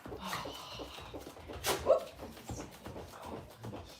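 Quiet snuffling and sniffing close by, with a soft whimper partway through and faint background noise.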